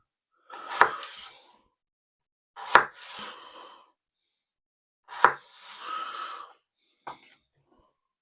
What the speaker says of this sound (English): I'm trying to cut them even so they all cook at the same point.